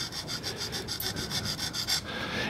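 A thread chaser scraper is rubbed back and forth on a flat sharpening surface, giving about a dozen quick rasping strokes in an even rhythm, close and fairly quiet.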